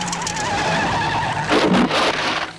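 A Triumph car skids and spins during the 1958 Coupe des Alpes rally, a sustained tire squeal under engine drone that swells into a louder, harsher scrub midway before easing off.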